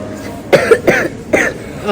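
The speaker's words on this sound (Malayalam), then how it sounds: "ചുമയുണ്ട്" A person coughs about three times in quick succession, close and fairly loud, with a voice talking nearby.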